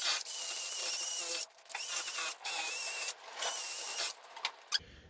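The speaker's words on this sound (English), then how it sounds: "Now we use a screwdriver and just clean it completely." A screwdriver scrapes rust off a LADA Niva brake assembly in a series of close, harsh rasping strokes, each a second or so long, separated by brief pauses, with no voices.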